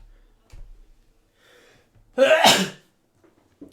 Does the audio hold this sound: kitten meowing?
no